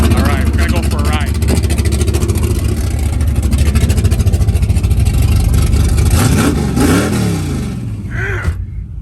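A 1970 Chevrolet Chevelle's V8 engine runs loud and steady while the car drives, with a rising rev near the end. A person talks over the engine noise.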